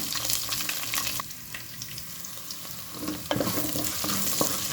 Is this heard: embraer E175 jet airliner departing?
no